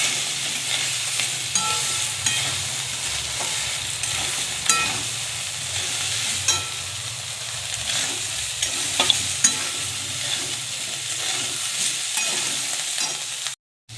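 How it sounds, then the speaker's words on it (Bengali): Drained soybean chunks frying with potatoes in a pan, a constant close sizzle with repeated scraping and knocking of the stirring spatula, running steadily until an abrupt stop at the end. "সয়াবিনটাকেও আলুর সঙ্গে ভেজে নেব ভালো করে।"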